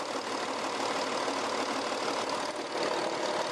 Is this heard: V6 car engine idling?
yes